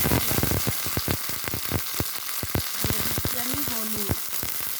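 Whole onions dropped into hot oil crackle and sizzle loudly, with dense rapid popping bursts throughout and a brief faint tonal clatter of utensils partway through.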